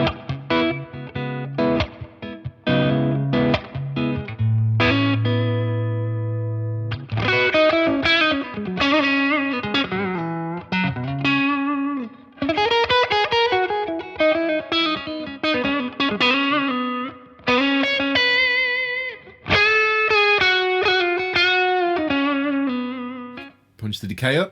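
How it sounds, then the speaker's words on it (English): An electric guitar plays distorted notes and chords drenched in a splashy, lingering spring reverb from a Keeley DDR pedal, loud and close, with pauses between phrases. "this is the sort of spring reverb"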